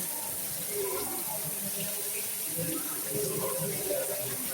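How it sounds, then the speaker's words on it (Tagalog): Shower water runs in a room at Herods Hotel by the Dead Sea, a soft continuous hiss and splatter under a low murmur of voices, steady and moderately quiet from start to end. "The water in the shower is not salty. This is natural water."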